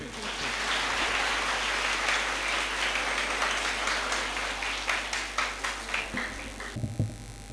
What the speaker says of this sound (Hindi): आपकी तालियों के गूंज में